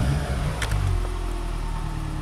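A Fiat Panda Young with a 900ie engine revs as the accelerator is pressed, a steady low engine drone close to the car with no talk over it.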